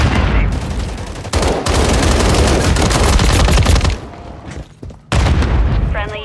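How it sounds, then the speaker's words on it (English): Gunfire in the Call of Duty Modern Warfare Kill Confirmed multiplayer mode: loud, dense bursts of automatic fire and booming shots, broken by a few short gaps, with a voice briefly audible amid the shooting. "I'm taking enemy fire."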